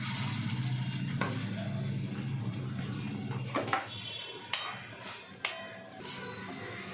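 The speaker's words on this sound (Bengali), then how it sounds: "আমি সবগুলোকে বলের আকারে ভেজে নেব" Chicken kofta balls frying in a pan for a curry, a steady sizzle of hot oil that runs throughout, broken near the end by a few sharp knocks and scrapes of utensils against the pan.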